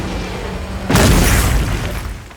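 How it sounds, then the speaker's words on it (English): Wyvern Fire gunlance blast in Monster Hunter Wilds, a single loud booming explosion that hits suddenly after a quiet lead-in and then slowly decays over the rest of the clip. "We'll start by looking at the normal Wyvern Fire firing speed as our baseline to compare against."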